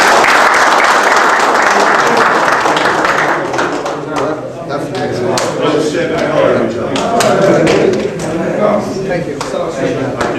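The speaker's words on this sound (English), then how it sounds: "Give me a clap." Group clapping from a gathered crowd at a small meeting, loud and close at first, then mixing with voices and scattered claps as people talk over it.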